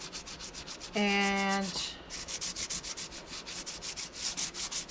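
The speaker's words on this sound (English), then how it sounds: "I'm going to sand this down" Sandpaper rubbed by hand across the bottom of a damp, not-yet-dewatered eco resin pot, a loud steady scrubbing rasp with rhythmic strokes that continue through the clip, with a brief spoken word near the start.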